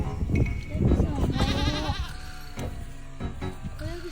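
A baby goat bleats several times close by, a wavering cry over an outdoor background, while people talk quietly alongside.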